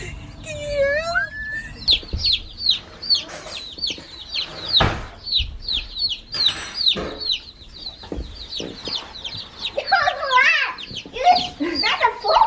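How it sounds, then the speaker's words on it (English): Chicks in a brooder chirp constantly in high, rapid peeps, many overlapping near and loud, with some clucking and brief bumps of handling noise mixed in. "We've got chicks in the brooder and they're getting too big"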